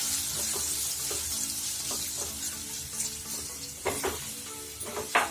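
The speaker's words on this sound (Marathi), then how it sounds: "त्या तेलामध्ये आता आपल्याला पनीर जरा भाजून घ्यायचंय" Paneer frying in oil in a pan gives a continuous close sizzle, with intermittent scraping and stirring clicks and a few louder knocks toward the end.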